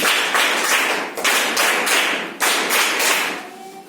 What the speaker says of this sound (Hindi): स्काउट ताली प्रारंभ